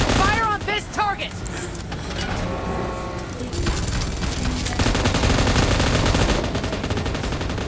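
Gunfire is aimed at a target in rapid, dense bursts of shots, loud and near, with voices and engine-like rumble mixed in.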